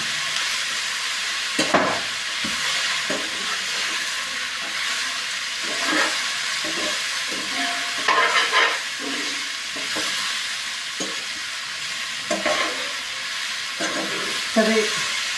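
Walachya bean pods and brinjal fry in masala with a continuous soft sizzling hiss, broken by irregular scraping and clatter as a spoon stirs the pan.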